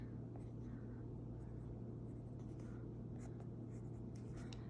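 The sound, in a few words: pen outlining a t-shirt fashion illustration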